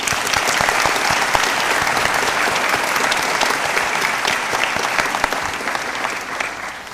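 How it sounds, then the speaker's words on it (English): An audience at a Year 13 graduation ceremony at Jerudong International School in Brunei claps, a dense and sustained crowd applause that holds steady for several seconds before easing slightly toward the end. "Please give all these people a round of applause."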